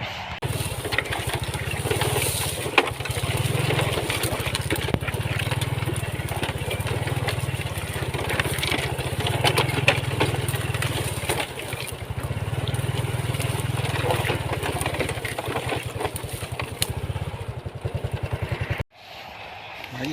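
A motorcycle engine runs steadily on a night ride through the countryside, a low pulsing drone with faint rhythmic variation that holds for about eighteen seconds before cutting off abruptly.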